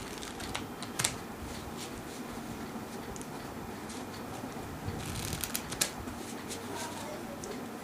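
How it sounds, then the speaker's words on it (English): Quiet, crisp flutters of a deck of playing cards being riffled in a couple of short bursts over a steady low background noise. "I can do it in a couple of shuffles."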